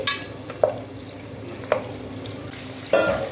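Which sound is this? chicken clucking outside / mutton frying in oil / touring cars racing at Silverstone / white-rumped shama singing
mutton frying in oil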